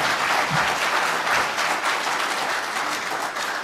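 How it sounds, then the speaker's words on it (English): A conference audience applauds a speaker at a British Constitution Group event, a dense steady wash of many hands clapping together, loud and even throughout with no talking over it. "So big round of applause for Justin, please."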